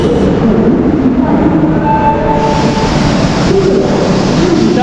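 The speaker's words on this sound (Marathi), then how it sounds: "August Kranti Rajdhani express" The August Kranti Rajdhani Express rumbles along on its run from Mumbai Central station, a loud, constant, close rolling roar of the train with no breaks.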